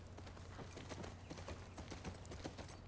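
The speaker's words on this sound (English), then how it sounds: "The world's strongest and best jumping horse" Horse hooves clip-clopping in The Last of Us Part II, a steady run of sharp hoof strikes over a low ambient rumble, with no talk.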